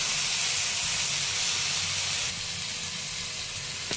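Eggplant pieces frying in a pan give a steady, dense sizzle throughout, with the hiss dipping slightly partway as the pieces are turned, close and continuous with no talk.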